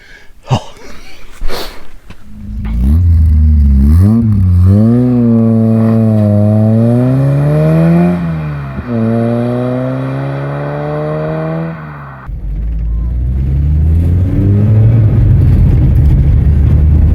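A 1980 Volkswagen Scirocco GLS MK1 starts and pulls away, its engine revving up through several gear changes with rising and falling pitch, loud and close from inside the car, then settling into a steady cruise.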